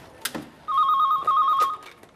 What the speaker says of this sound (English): Hello, Eric Slatt's phone.